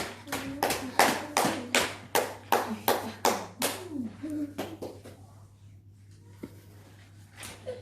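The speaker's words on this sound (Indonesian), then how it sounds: "beri aplaus yang buat Lilis" A primary school class applauding a student's presentation: a burst of loud, rhythmic clapping that thins into scattered claps and fades to quiet after about five seconds.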